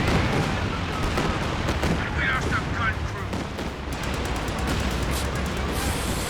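Calliope rocket artillery barrage in a Company of Heroes 2 multiplayer match, a dense roar of rapid explosions and booming impacts hitting a base, loud and continuous, with a voice talking over it.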